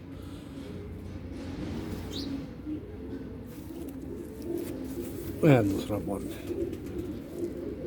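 Golden pigeons coo near by in soft, low rolls, with one clearer call midway, under a steady background hum and someone talking.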